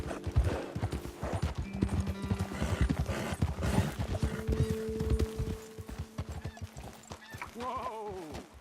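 Horses' hooves clip-clop in a brisk, uneven rhythm over ground in Red Dead Redemption 2, close and steady, ending with a horse's whinny.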